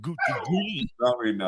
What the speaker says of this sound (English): Oh, sorry, that was the dog.